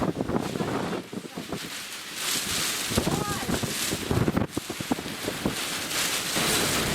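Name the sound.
squally cold wind blowing in the street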